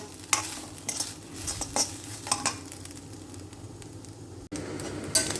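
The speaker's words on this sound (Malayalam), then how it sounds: "നമ്മുടെ നാളികേരം നന്നായി മൂത്തിട്ടുണ്ട്" Grated coconut crackles and sizzles as it roasts in a hot pan while a spoon scrapes and stirs at intervals, close and steady, with no talk.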